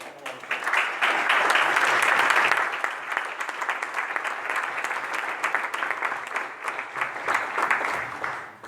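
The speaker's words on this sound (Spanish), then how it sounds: "me gustaría empezar aplaudiéndoos a vosotros porque estáis aquí" An audience in Andorra breaks into sustained applause, a full, even clatter of many hands that swells early and then carries on steadily, close and without talk over it.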